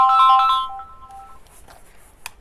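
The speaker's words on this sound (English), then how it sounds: "I'm getting a phone call." An incoming-call phone ringtone plays loud and close, a bright repeating melodic pattern that fades after about a second, leaving quiet room noise.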